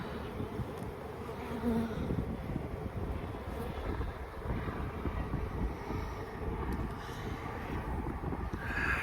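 A dense, steady hum of many honey bees buzzing close by at an open hive, continuous throughout with light wind noise and no talking.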